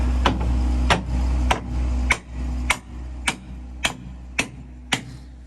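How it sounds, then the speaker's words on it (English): A hammer drives a wedge into a dog clamp on sheet metal, about ten sharp, evenly spaced metallic strikes close up, the first few over a low machine hum that drops away partway through. "and then you hammer it"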